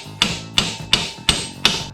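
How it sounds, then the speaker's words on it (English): A brass hammer strikes a part during a 1990 Harley-Davidson 883 Sportster build, five sharp metallic taps at a steady, even rhythm, close and clear with no talk. "Magic brass hammer does the trick almost every time."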